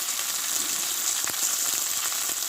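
Fried spice masala sizzling in a pan as a tomato goes in for a drumstick curry: continuous close frying hiss with faint crackles and a few soft bursts, no talk.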